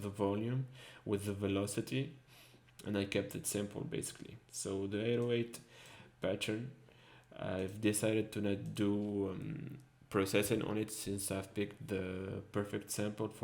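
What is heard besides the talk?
None of the usual background noises is heard.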